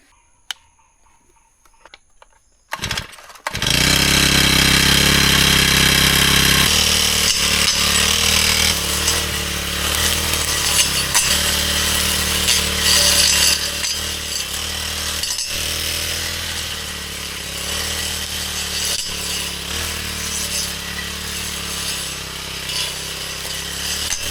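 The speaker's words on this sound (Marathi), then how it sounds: "सो हा आहे ग्रास कटर" A motorized grass cutter starts up and runs loudly and continuously in a Konkan village, its engine whining steadily with slight changes in pitch as it cuts.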